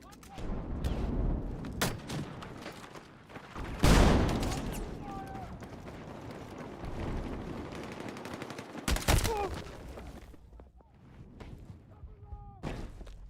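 Video game gunfire including a pump-action shotgun: loud broadband blasts and bursts of shooting, heaviest around two distinct booming shots, over a busy game soundscape with people talking throughout.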